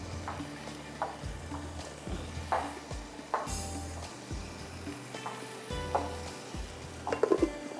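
Vegetables for potato cutlets frying in a pan, a soft sizzle under repeated scraping and stirring with a utensil, with occasional light clinks against the pan.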